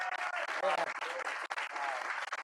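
An audience gives a big round of applause during a live conversation event, dense clapping filling the room at steady loudness for a couple of seconds, with a slight dip midway.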